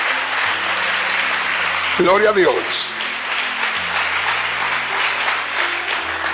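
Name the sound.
applause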